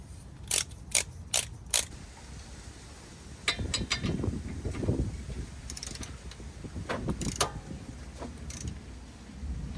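A torque wrench tightening a bolt on a Teraflex steering stabilizer on a Jeep JK: four sharp ratchet clicks, then a stretch of quieter rhythmic ratcheting and mechanical clatter, close by.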